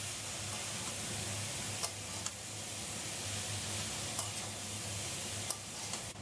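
Cabbage is stirred into a simmering hilsa fish head and gills curry in a pan: a steady frying hiss with a few sharp taps and scrapes of the spoon at irregular moments.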